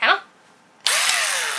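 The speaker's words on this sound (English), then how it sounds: "Drill?" Power drill whining at steady high speed, starting abruptly after a short burst of another sound and running loud and continuous to the end.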